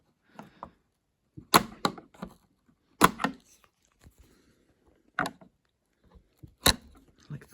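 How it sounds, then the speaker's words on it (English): Metal hinge pins being pried up and pulled from a Miele washing machine door: a handful of sharp, isolated clicks and knocks separated by quiet pauses, close and fairly loud. "I can clip those pins up, flip them up and pull them out."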